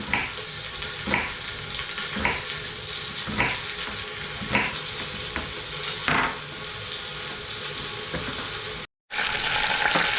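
Beef searing in a hot pan for a French dip sandwich makes a loud, continuous sizzle that swells in periodic bursts, with a very brief dropout near the end.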